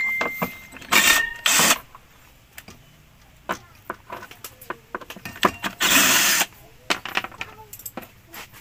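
Three screws are backed out of a washing machine motor that overheats quickly, giving clicks, scrapes and bursts of whirring from a nearby tool, with metallic taps in between.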